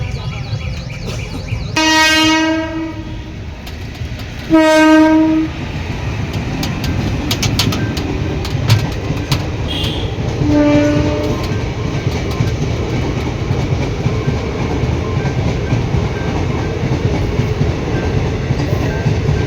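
A moving train rumbles past close by, sounding two loud horn blasts early on and a fainter third one later over a continuous clatter of rolling wagons.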